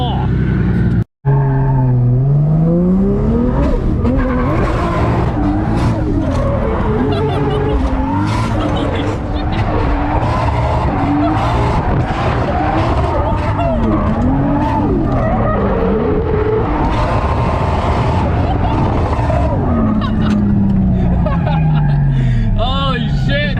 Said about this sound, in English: let's go do some more skids